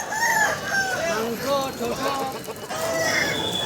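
Roosters crow repeatedly at a rural poultry market in Balarampur, Purulia, where large Aseel birds are sold; several drawn-out crows overlap from different distances over a steady murmur of crowd noise and voices.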